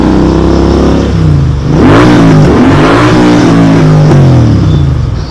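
A Royal Enfield GT 650 motorcycle engine revs loud and close, its pitch climbing and falling through several throttle blips over a steady running note, with no voices.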